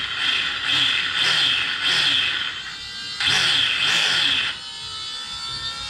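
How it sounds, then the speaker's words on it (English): The gyro on a Losi Promoto MX RC motorcycle, powered through the BEC, powers up with a close electronic buzzing whine that comes in three separate bursts over a quieter mechanical background. "Hear the gyro firing up, controlled by the BEC, the red light in here."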